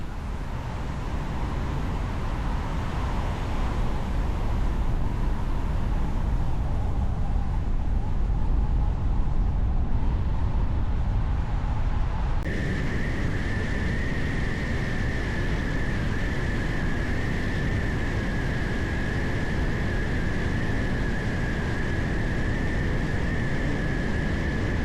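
A car drives along a road, heard as a steady broadband rumble of road and wind noise with a faint tonal whine that shifts midway, continuous and fairly loud with no voices.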